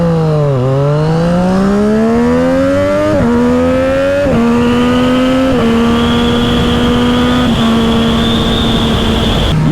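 A loud, close motorcycle engine, either a BMW F900R or a Triumph Street Triple 765 RS, pulls hard and climbs steadily through several gears. Each upshift drops the pitch before it rises again, under a continuous rush of wind, with no talking.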